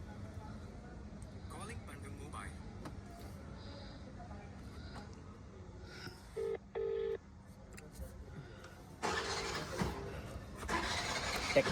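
A phone dials a call through Siri, giving short electronic tones and a pair of clear beeps midway, followed by a ringing hiss, faint and close, with quiet voices in the background.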